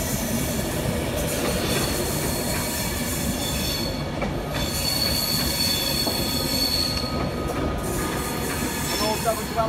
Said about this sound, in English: 784 London Overground arriving from Glasgow.